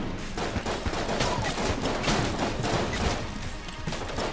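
Rapid gunfire from the video game Enter the Gungeon, a steady dense barrage of shots and crashes lasting throughout at moderate loudness.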